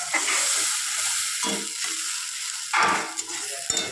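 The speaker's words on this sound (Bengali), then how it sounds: "এবার আমি ভালো করে ভেজে নেব মশলাটাকে দেখো মশলাটাকে একটু নেড়ে চেড়ে দেবো" A paste of ginger, garlic, green chili, turmeric and salt sizzles in hot oil as it is stirred for a chicken curry, a steady crackling hiss with scraping stirs and a brief louder burst near the end.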